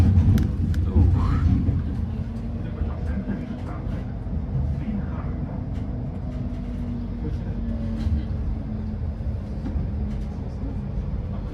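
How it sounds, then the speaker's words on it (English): Low rumbling of a tram in motion near Krakow, Poland, steady rolling noise with occasional rattles, and people talking nearby throughout. "now I'm on the tram."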